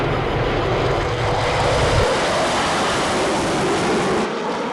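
Blackbird Mach 3 jet engine cruising, a dense, constant roar with broad rushing noise and a low rumble that drops away near the end, with no talk.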